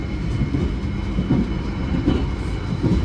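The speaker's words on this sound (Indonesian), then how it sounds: "kereta api Argo Wilis mulai ngebut" KA Argo Wilis passenger train running fast on straight, flat track, a steady close rumbling roar with rhythmic wheel clatter throughout, no voices.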